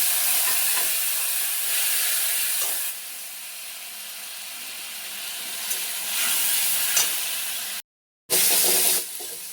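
Turmeric water is poured into hot oil with nigella seeds and green chillies, setting off a loud, hissing sizzle that rises and falls in bursts, broken by a short cut of silence near the end.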